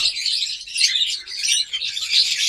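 Pied opaline lovebirds chirp in a dense, high-pitched chatter, continuous and fairly close, with no talking over it.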